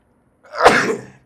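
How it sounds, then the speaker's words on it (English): A single loud sneeze, close by, bursting out sharply and trailing off within about a second, with no other sound around it. "I gotta sneeze."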